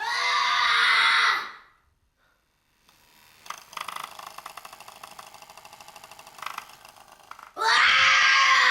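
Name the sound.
child screaming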